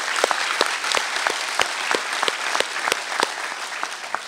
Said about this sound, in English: I'd just like to give him a round of applause